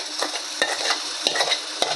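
Ground masala paste frying in oil for chana masala, a steady close sizzle broken by a few sharp scrapes of stirring, with no talk.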